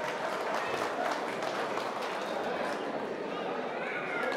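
Crowd applause for the newlywed couple at a wedding celebration, a continuous mid-level patter of clapping mixed with voices and hall noise.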